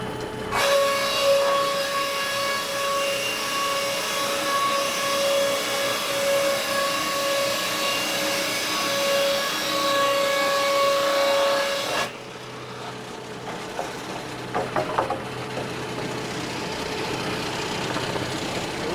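Heavy-built board edger trimming lumber on the outfeed side: a loud, steady mechanical whine and drone with tonal hum that drops to a lower rumble near the end.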